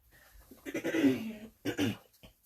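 A person coughs twice in a quiet indoor room, first a longer rough, throaty cough and then a shorter one, both close and moderately loud.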